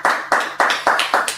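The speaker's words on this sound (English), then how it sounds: "clap it up" An audience clapping in a steady rhythm of six loud, close, evenly spaced claps in quick succession, each ringing out briefly, with no talking.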